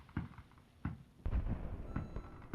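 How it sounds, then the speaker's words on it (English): Fireworks bursting outside in the game Retro Rewind: several separate muffled booms spaced about half a second apart, low and thudding at moderate distance, with no voices. "There's fireworks going outside."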